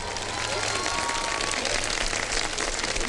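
A studio audience claps steadily for a television show entrance, a dense, even wash of applause from start to finish under faint voices.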